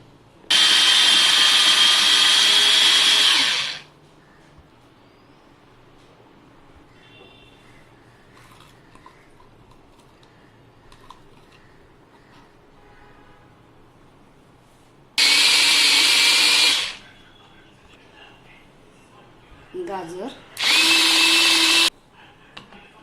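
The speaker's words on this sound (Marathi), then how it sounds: "चॉपरवर कोबी आपण बारीक करून घेऊया" An electric chopper whirs loudly in three bursts as it chops cabbage for veg momos: a long burst at the start, then a shorter one, then a brief final one. Quiet kitchen pauses separate the bursts.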